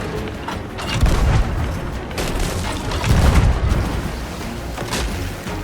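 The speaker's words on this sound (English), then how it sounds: "we unleashed vicious volleys of cannons on each other's vessels." Ship cannons in Sea of Thieves fire in heavy volleys between two vessels, with booming thumps swelling and fading over a busy rumbling background.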